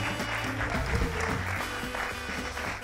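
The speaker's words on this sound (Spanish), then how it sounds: "Un aplauso grande para Rocha." An audience at a Spanish stand-up comedy show claps steadily and loudly throughout, a dense wash of applause with cheers and the comedian's voice faintly mixed in.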